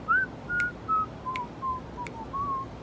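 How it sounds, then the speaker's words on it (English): A person whistles a short, wavering tune of several separate notes, clear and close, with faint clicks between them and no talking. "I need to practice my whistling."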